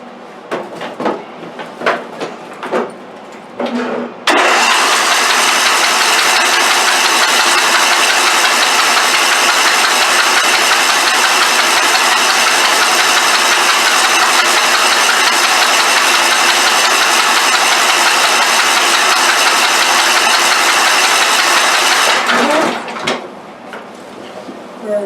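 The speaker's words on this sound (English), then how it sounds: "So I'm just trying to turn it over and get everything blown out." A 24hp Briggs & Stratton engine on a Poulan riding mower cranks over steadily with its fuel line clamped, a loud continuous churning drone lasting nearly twenty seconds, framed by quieter shop noise and clatter before and after.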